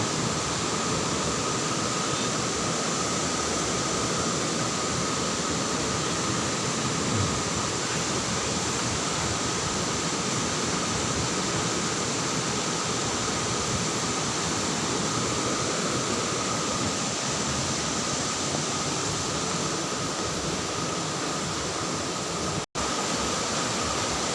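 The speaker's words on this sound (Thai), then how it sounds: "น้ำตก ไหล แรงมาก" Takhro waterfall in the rainy season, flowing hard: a steady, dense roar of rushing water that holds unchanged throughout, loud and close with no voices.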